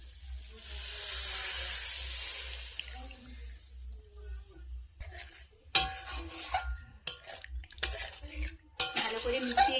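Prawns being stirred with freshly strained coconut milk in a pan for chingri malai curry, with utensil scrapes and clinks coming in irregular bursts after a quiet, hissy start.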